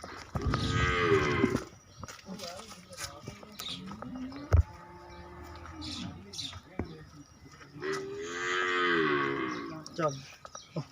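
A Nili-Ravi buffalo in Pakistan lets out two long, deep moos, close and loud, with gaps between them where someone talks and calls out.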